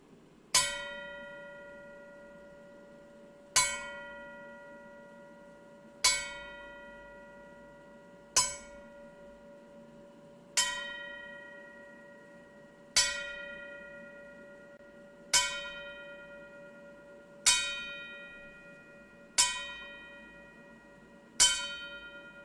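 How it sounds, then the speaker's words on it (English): A memorial bell at a wrestling event tolls ten times in slow, even succession, each clear ringing strike decaying before the next, alone in a quiet hall. "we toll the bell 10 times in honor of our fallen friend"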